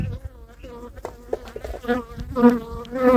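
Honey bees buzz in an open hive of an autumn split colony during a spring inspection, a steady droning hum that swells louder toward the end, close and continuous with no talk.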